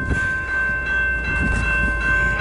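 A CN freight train, with a UP locomotive in the consist, passes slowly in Port Huron, giving a continuous, close, heavy rumble with a steady humming drone and no voices.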